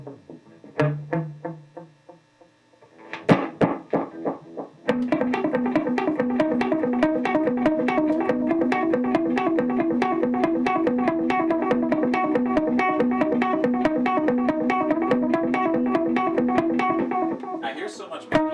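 Dense, wavering guitar tones through an analog delay pedal, an Electro-Harmonix Deluxe Memory Man or a Mercy Seat Effects Timestopper, with a warbling, pitch-bending wash and echoing repeats, steady and loud after a few sparse opening notes.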